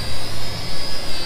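A Holy Stone HS110D toy quadcopter drone with prop guards flies outdoors in wind, giving a loud, close, steady high-pitched whine that pulses slightly in volume, with no talking.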